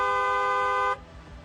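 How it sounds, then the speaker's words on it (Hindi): A car horn sounds as one loud, steady blast lasting just under a second, then cuts off abruptly, leaving low background noise. "हॉर्न बजाना जरूरी है।"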